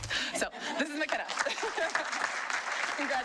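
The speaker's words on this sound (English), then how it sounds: "you have certainly earned all of the applause that I hope you get in just a second" An audience at a school board meeting breaks into applause for a student, a busy patter of clapping mixed with chuckles and murmured voices from the room.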